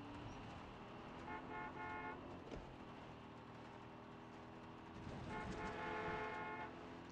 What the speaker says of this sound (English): I like honking at them.